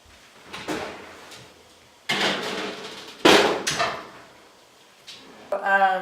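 Oven door and tray clunks in a home kitchen while scallops go in to bake: several separate sharp knocks and bangs spread over a few seconds, fairly close, with quiet gaps between them.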